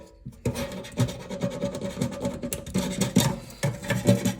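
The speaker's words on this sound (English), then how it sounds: "You wanna get all the putty that was there before, scrape it off." A knife scrapes old, hardened plumber's putty off a kitchen sink drain in short, rough rasping strokes repeated in an uneven rhythm, close up and with no talking.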